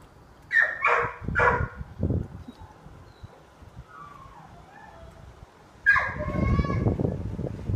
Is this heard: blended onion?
no